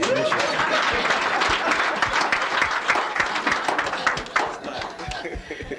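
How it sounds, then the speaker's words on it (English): A studio audience claps steadily for a woman on a Nigerian call-in programme, dense continuous applause with a voice talking over part of it. "Make una clap for her."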